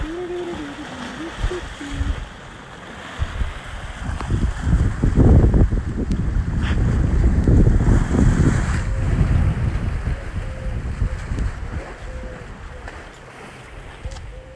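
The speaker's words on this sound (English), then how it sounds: "Nice little breeze." Breeze buffets the microphone on a boat out at sea off Key West on a pretty day. Steady wind rumble swells in the middle with faint water wash beneath, and no voices.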